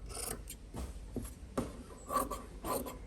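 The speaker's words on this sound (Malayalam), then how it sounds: "ബാക്കിയുള്ള തുണി ഒന്ന് കട്ട് ചെയ്യണം" Scissors cutting through leftover nightie fabric, a few close, soft crunching snips and rustles of cloth in an irregular rhythm against a low background hum.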